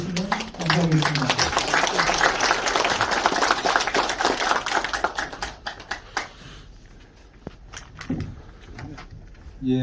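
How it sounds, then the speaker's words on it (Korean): Applause from a lecture audience welcoming the speaker at a special talk at a history museum, dense clapping filling the first half and then thinning to scattered claps and quiet room noise. "박수로 환영해 주시면 감사하겠습니다"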